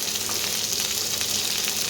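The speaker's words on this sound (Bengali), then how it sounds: "তাই পেঁয়াজগুলোকে একটু ভাজতে হবে, কালারটা চেঞ্জ অবধি।" Onions fry in a pan, giving off a steady soft sizzle and crackle with light stirring scrapes, close and alone without talk.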